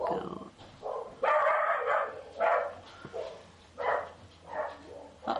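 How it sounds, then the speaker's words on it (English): Several dogs bark in repeated bursts at a home, reacting to a mail carrier arriving; the loud, fairly close barking comes in clusters separated by short pauses. "Let the dogs finish barking"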